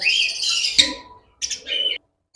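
Pet birds in a lovebird and cockatiel shop chirp in sharp, high-pitched bursts, a long squawking call followed by a shorter chattering one, close by with no talk.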